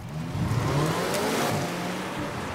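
A plug-in hybrid station wagon pairing a turbo four-cylinder with a battery accelerates steadily, giving a fairly quiet, continuous engine and road drone with a slight rise in pitch as it picks up speed.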